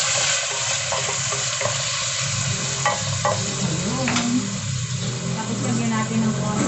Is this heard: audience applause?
no